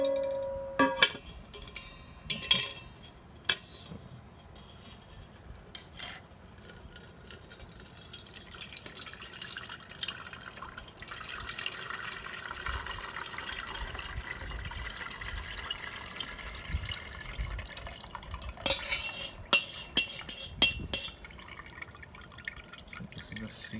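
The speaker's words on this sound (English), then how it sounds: "I will filter it, okay, so that I can remove all the seeds from the juice." Passion fruit juice drips and trickles through a strainer to catch the seeds, with scattered liquid splashes and clinks of utensils, a soft steady pour in the middle, and a brief voice speaking now and then.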